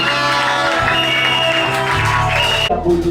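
Congregation at a church consecration of new pastors applauding and cheering in acclaim, a dense, steady wash of clapping and shouts mixed with a voice, cutting off near the end.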